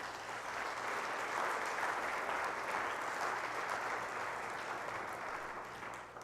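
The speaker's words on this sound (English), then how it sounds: "Let's give them a huge round of applause" A church congregation claps in a steady, even round of applause during a Sunday service. The applause sounds somewhat distant and subdued and stays level for about six seconds.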